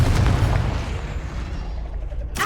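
Fiery explosion from the Confringo spell in Hogwarts Legacy, a loud broad boom that fades away over two seconds, ending in a sharp burst.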